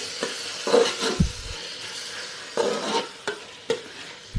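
Chicken coated in biryani masala is stirred in a pan, with a few distinct scraping, clinking strokes of a spoon over a low sizzle, spaced irregularly across the few seconds.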